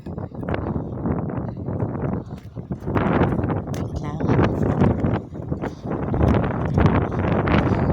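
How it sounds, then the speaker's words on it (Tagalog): Strong wind buffets the microphone in continuous gusty rumbles, with people talking faintly underneath. "sobrang hangin dito guys"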